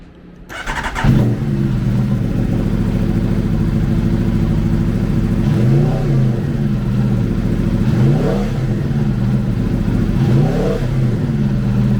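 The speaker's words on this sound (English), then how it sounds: "Powered by a 1077cc four-cylinder engine, the RSV4 puts 217 horsepower" Aprilia RSV4 1100 Factory with a 1077cc four-cylinder engine starts up and settles into a loud, close idle, punctuated by three sharp throttle blips that rise and fall in pitch.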